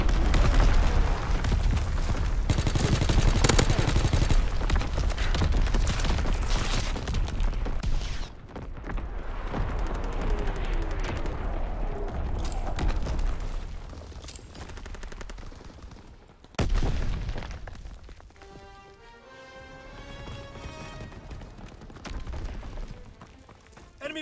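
Video game battle with sustained dense gunfire and booming explosions throughout, rolling bursts layered on a constant rumble, easing partway and then flaring again with sharp blasts.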